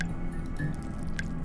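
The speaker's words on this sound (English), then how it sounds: "He's dripping blood." Blood dripping in the game Don't Escape 3: a few separate, wet, bright drops fall at uneven intervals over a quiet steady background hum.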